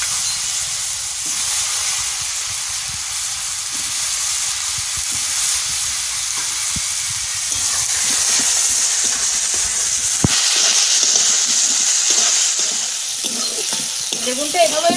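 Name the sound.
eggplant frying in mustard oil in a wok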